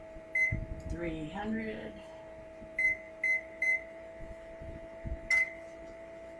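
A kitchen oven's control panel gives several short, thin electronic beeps, spaced irregularly while the preheat is set, with someone talking softly between them over a faint steady hum.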